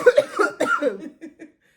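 A few sharp coughs up front, followed by softer breathy coughs that trail off into quiet.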